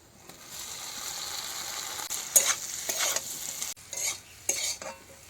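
Taro sizzles in a hot pan with fried spices while a utensil scrapes and stirs in bursts, with quieter gaps between strokes.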